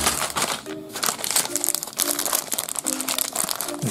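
A plastic bag of Mega Bloks zombie set parts being handled up close, with continuous crinkling and rustling, loud and busy throughout.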